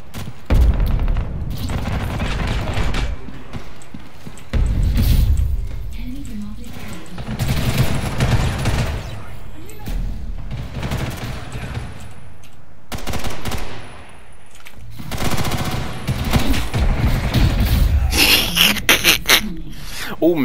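Gunfire and explosions in the online shooter First Assault Online, with rapid bursts and booms recurring across the whole stretch, loud and dense, interleaved with a player talking over the action.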